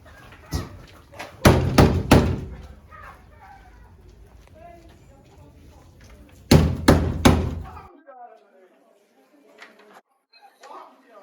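Two loud bursts of rapid knocking on a door, each three or four sharp raps, close by, with chickens clucking and people talking quietly in the background of a Jamaican film scene.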